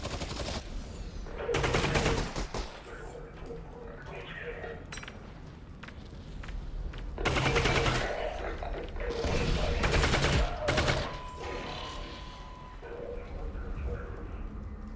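The rapid-fire Combine gun in the video game Half-Life: Alyx fires in several dense bursts, loud and sustained, with quieter gaps between them and voices underneath.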